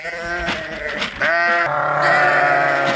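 Katahdin sheep bleating close by, several overlapping wavering calls in quick succession from the flock, loud and clear with no talking.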